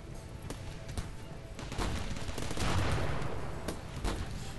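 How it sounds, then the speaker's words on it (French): Grenade and gunfire in a Rimworld battle: continuous rapid popping shots with dull thuds swelling midway, dense and fairly loud throughout. "Je sais pas qui tire à la grenade"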